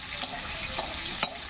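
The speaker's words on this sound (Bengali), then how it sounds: "পেঁয়াজটা একটু ভাজা ভাজা করে নেব।" Onions frying in oil in a pan for a pumpkin-greens, eggplant and prawn dish, a steady close sizzle with a few brief stirring scrapes.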